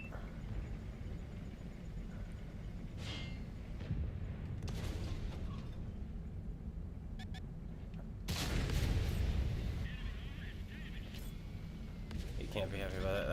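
Heavy cannon blasts from the Bär tank in a video game, a couple of deep booming shots under a constant engine rumble, with someone talking over the action.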